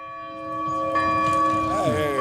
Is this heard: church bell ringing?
yes